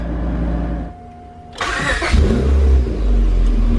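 A Honda Integra engine cranks briefly and fires up, settling into a strong, steady idle close by with no talking.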